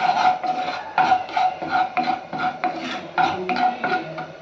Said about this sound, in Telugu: అలాగే కొంచెం కారపొడి అలాగే లైట్గా పసుపు వేసి వేయించుకోవాలి